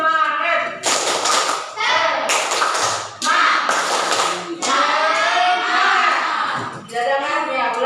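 A classroom of children performs a rhythmic spirit clap, bursts of loud group clapping and patting in a chanted pattern, alternating with kids' voices chanting along throughout.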